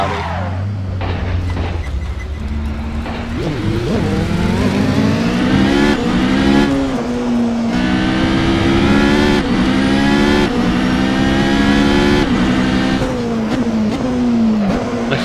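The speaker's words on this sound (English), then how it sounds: "that sounds like a diesel. That's an Audi!" An Audi diesel endurance race car in a racing video game, driven at Spa, runs loud and continuous with rising and falling engine revs through gear changes, and no one speaks over it.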